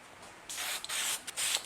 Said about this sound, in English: I'm gonna hit it with one last coat